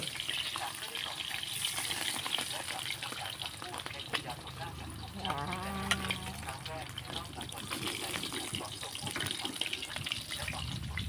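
Mackerel fries in hot oil with a continuous bubbling sizzle close by, and someone talks over it for part of the time.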